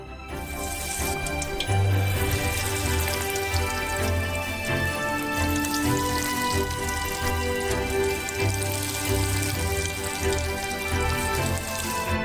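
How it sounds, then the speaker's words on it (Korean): Croquettes deep-frying in a pot of oil sizzle and crackle steadily for the whole stretch, a dense bubbling hiss with a low background hum and no talking. "그리고 이 퓨레들을 튀겨주세요."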